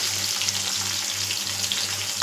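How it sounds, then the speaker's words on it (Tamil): Small shallots and garlic cloves frying in a pan for fish curry, an even close sizzle running throughout over a faint low hum, with no speech. "இது நல்லா அப்படியே வதங்கி வரட்டும்"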